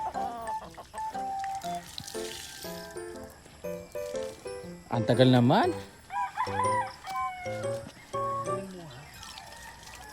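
Chickens cluck and a rooster crows loudly nearby, with people talking over and between the bird calls.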